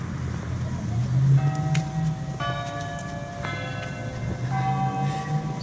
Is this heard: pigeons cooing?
no